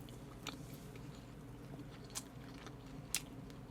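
Someone eats spicy stew and a pork belly lunchbox close to the mic, with soft chewing and a few crisp bites or utensil clicks over a low steady background.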